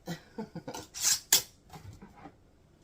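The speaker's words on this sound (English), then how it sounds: "And we're going to put a lid on there, then a ring." Metal lid and screw ring placed on a glass canning jar of pizza soup, a few light clinks and scrapes followed by two sharp bright metallic clanks, close and without talk.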